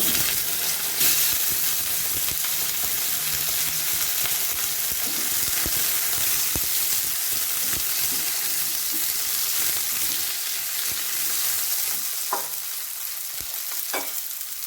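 Eggplant pieces hit hot oil in a pan while a tangra fish curry is made, a loud steady sizzle with stirring knocks and scrapes, a couple of sharper clinks near the end, no voices.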